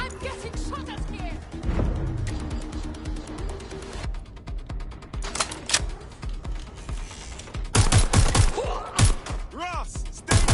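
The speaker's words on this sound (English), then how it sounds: "I'm getting shot at here!" Gunfire in a PS4 video game shootout: sharp bursts of shots crack out in clusters, loudest toward the end, over a steady bed of game noise and a talking voice.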